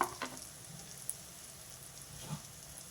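Eggs frying in a covered pan, a quiet steady sizzle with a few soft pops and crackles, no voices.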